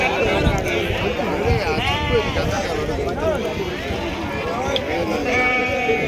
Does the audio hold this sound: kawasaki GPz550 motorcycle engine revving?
no